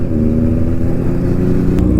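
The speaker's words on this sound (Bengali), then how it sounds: "ইনলাইন 4 এর গাইস আওয়াজটাই অনেক।" Steady, loud engine roar from a Kawasaki Ninja ZX10R inline-four superbike on a road ride, close and continuous, with a faint clatter near the end.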